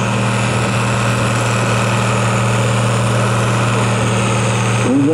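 A Case International 956 XL tractor pulling in the 5-ton class at a tractor pull in Bellegem roars with a loud, steady engine drone and a deep rumbling hum, holding constant with a slight surge at the very end.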